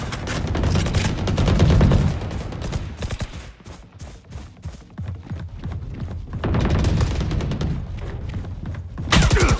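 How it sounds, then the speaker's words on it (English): Rapid gunfire from Valorant, a first-person shooter video game, fired while the player's character runs, forming dense, loud bursts of shots that swell near the start and again toward the end with a sharp final crack. "that's just running while shooting"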